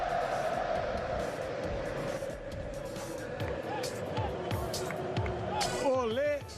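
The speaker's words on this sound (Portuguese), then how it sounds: "E hoje tem essa reação da torcida, ó." Corinthians supporters in a stadium crowd roaring and chanting for coach Tite after a 6-1 win over São Paulo, a broad sustained crowd wash with rising cheers, under a commentator's voice.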